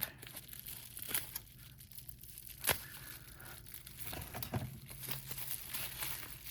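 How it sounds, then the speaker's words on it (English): Plastic packaging crinkles and tears in short bursts, with a sharp snip near the middle, close to the microphone and fairly quiet. "I'm going to find my scissors here and open this up."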